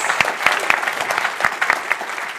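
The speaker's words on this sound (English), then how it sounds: "So just give these guys a round of applause." Applause from a tech conference audience at a Kinect SDK developer session, a crowd clapping steadily for a few seconds with sharp individual claps standing out, near and fairly loud.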